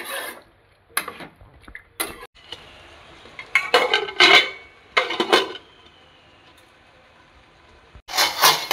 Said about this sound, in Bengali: দু থেকে 3 মিনিট কষাবো।